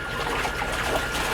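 Water being stirred by hand into a vortex for a biodynamic field spray preparation, a continuous close swishing and trickling churn with bubbly splashes, no voices.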